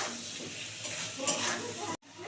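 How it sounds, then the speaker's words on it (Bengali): Papaya pieces sizzle and fry in a pan with salt and turmeric, a steady close hiss with occasional stirring scrapes, cutting off abruptly near the end. "এবারে পেঁপেটাকে সুন্দর করে বন্ধুরা ভাজতে হবে"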